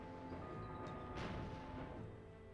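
A cannon fires at enemies in Star Fox Adventures, giving a single muffled, booming blast that swells and fades over a couple of seconds, fairly quiet and with no talking.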